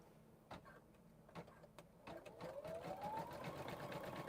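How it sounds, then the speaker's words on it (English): An embroidery sewing machine stitches a satin stitch around a hoop, starting with a few separate clunks, then settling into a rapid, steady mechanical whirr with a rising motor tone, close and fairly quiet with no talk. "Now I can put my hoop back on, and it's going to do the satin stitch all the way around."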